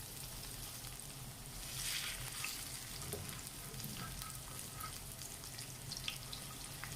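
Mixed pakoras with potato and spinach frying in oil over moderate heat, a quiet steady sizzle and crackle with small pops and bubbling, close but faint and with no voices over it.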